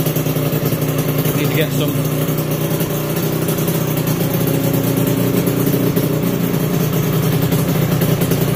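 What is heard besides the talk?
Aprilia RS125 motorcycle engine, throttle blips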